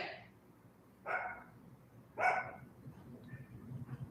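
A small dog barks twice in sharp, separated yaps at moderate distance, followed by fainter restless noises, with no talking over it.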